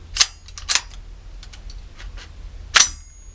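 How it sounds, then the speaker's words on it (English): Three sharp, loud gunshots from a nickel boron AR-15 rifle with a muzzle brake, a WMD Beast, spaced about a second apart and then after a longer pause, with no talking. "first shots with the WMD Beast"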